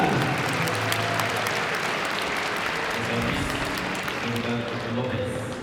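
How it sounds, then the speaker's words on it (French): Audience applause at the start of a padel tournament final in Mondeville, dense sustained clapping from a crowd filling the whole stretch, with a voice over it. "vous pouvez les applaudir bien fort s'il vous plaît pour le lancement de cette finale"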